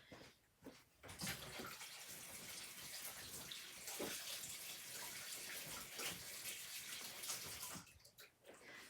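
Hands are washed under a running tap, with a steady rush of water splashing close by for several seconds, framed by brief quieter moments of handling at the start and end.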